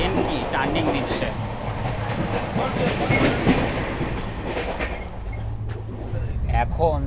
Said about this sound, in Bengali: ট্রেন কি টার্নিং দিচ্ছে।